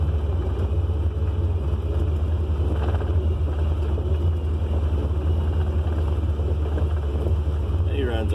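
A car with a ceramic clutch driving, its engine a steady low drone under rushing wind and road noise, loud and continuous throughout.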